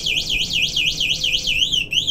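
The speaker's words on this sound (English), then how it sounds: "these scooters comes with an alarm" Anti-theft alarm on an Ultron Ultra 60v dual-motor electric scooter, a loud, piercing siren that warbles rapidly up and down in a repeating cycle, then shifts to a quicker pattern near the end.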